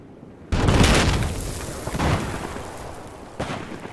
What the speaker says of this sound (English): You can hear the dirt just spraying on him